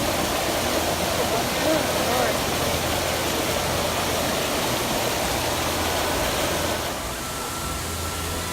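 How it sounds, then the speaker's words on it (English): Steady rushing water from a small waterfall in Thailand fills the clip, a dense continuous splash like a small cascade, easing slightly near the end. "we were in this like little waterfall area, which was really cool."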